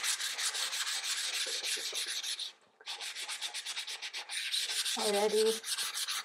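Sandpaper rubbed briskly back and forth over milk-painted wood, giving a dense, continuous scratchy rasp broken by one brief pause, while a voice speaks a single short word.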